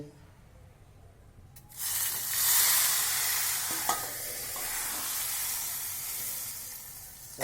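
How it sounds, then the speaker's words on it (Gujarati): Hot tempering for dal with curry leaves, turmeric and asafoetida bursts into a loud, steady sizzle after a quiet start, with a sharp pop or two midway, for a Kathiyawadi thali. "સરસ મજાની દાળનો વઘાર કરી લીધો"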